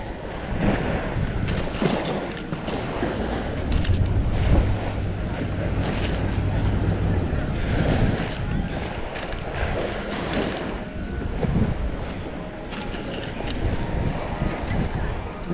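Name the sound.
boat arriving at Egmont Key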